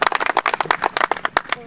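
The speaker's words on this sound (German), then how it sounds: "Sie bekommen meinen Applaus" Sharp, close hand claps at a dog protection-work trial, a quick uneven burst of individual slaps that stops at the end, with voices in the background.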